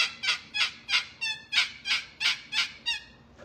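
A hand-operated turkey call produces a fast run of about ten sharp, yelping turkey vocalizations in a bouncing cadence, close and clear with no talking.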